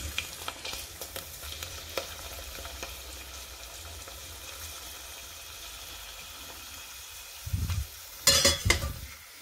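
White krupuk crackers frying in a pan of hot oil, a steady low sizzle with faint stirring and utensil clinks, then a few louder scraping clatters near the end; no one speaks.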